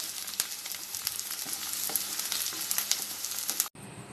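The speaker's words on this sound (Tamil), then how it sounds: "நல்லா பூண்டை வதக்கணும். பச்சை வாசனை போகிற வரைக்கும் வதக்கணும்." Garlic sizzles and fries in a pan as it is sautéed for a pickle, a steady crackling hiss with occasional stirring pops, fairly quiet and continuous before cutting off abruptly near the end.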